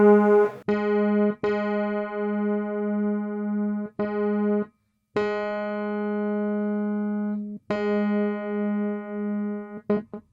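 A sustained struck string tone from a Yamaha CP70M electric grand piano rings repeatedly, restruck about six times with short gaps, its pitch wavering slightly, out of tune and flat.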